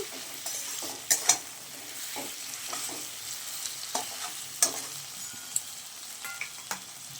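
Onions with salt frying in a pan give a steady close sizzle, broken by sharp scrapes and clicks of a spoon against the metal, with no talking.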